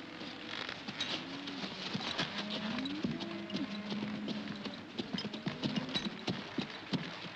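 Horses' hooves clip-clopping as riders set off in a 1951 Western film, a brisk irregular patter of hoofbeats on hard ground, close and clear, with faint creaks underneath and no speech.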